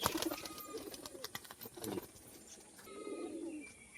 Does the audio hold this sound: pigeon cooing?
yes